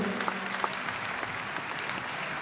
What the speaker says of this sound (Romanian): Aplauze pentru voi, în primul rând.